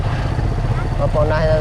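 A close motorcycle engine drones steadily, with a voice speaking over the rumble near the end.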